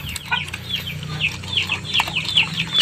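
Chickens clucking close by during bathing care, repeated short clucks and squawks coming in quick irregular bursts over a low background rumble.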